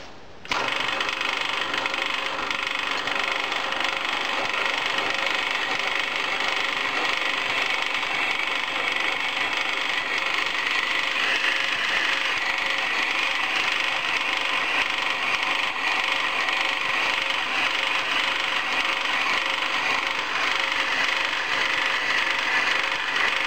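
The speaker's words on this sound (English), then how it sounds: "I have to drill the tapping hole." Drill boring a tapping hole in cast iron during camshaft melting work, a steady loud whirring and grinding that runs unbroken throughout after a sharp start.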